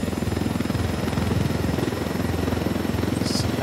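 An unarmed helicopter cruises in Ghost Recon Wildlands, its rapid rotor chop and engine whine filling the mix at a constant loud level, with a brief higher blip near the end.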